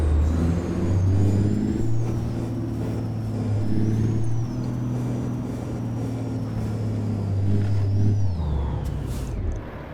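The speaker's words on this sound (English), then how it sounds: "this thing is really good at braking" A heavy truck in American Truck Simulator slows under braking, its engine droning low and steady while a high whining tone glides up and down above it, ending with a short hiss near the close.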